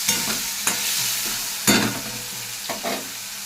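Cubed potato fries in a pan with nigella seeds and salt, a steady close sizzle punctuated by several sharp scraping stirs of a spatula against the pan, with no voices.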